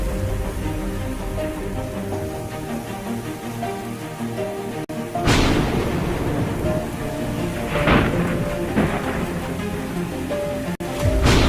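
Steady rain falls across the African savanna grasslands in the short rainy season, with loud cracks of thunder bursting in around five and eight seconds and rolling off, the downpour continuing as a constant hiss throughout.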